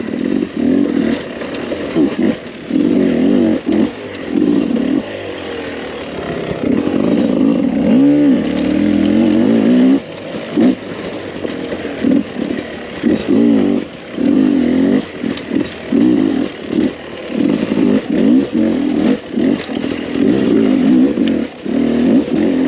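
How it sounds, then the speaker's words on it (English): A Beta 300RR two-stroke dirt bike engine revs hard on a cold, dry winter trail ride, climbing through repeated throttle blips and bursts close by, with short dips between pulls. "So the power delivery itself on this Beta 300 motor is one of the best, I think, for single track riding."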